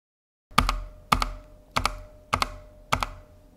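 Keys clacking on a Drop Dwarvish ENTR mechanical keyboard that pings badly, five crisp strokes spaced about half a second apart, each with a ringing metallic ping, close and alone in a quiet room.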